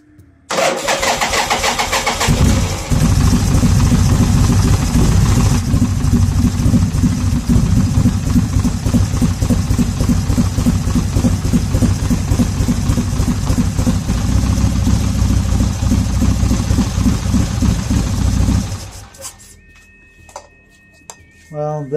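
A 1979 Harley-Davidson Ironhead Sportster motorcycle engine cranks over and catches at close range, then runs loud and steady with a rough, pulsing idle for about sixteen seconds before cutting off abruptly, leaving near silence with faint clicks.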